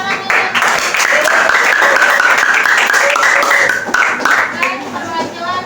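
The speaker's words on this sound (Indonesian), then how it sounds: "Oke, tepuk tangan dulu." A classroom audience bursts into loud, sustained applause that fills the room, with many hands clapping densely for several seconds, mixed with cheering voices, before tapering off.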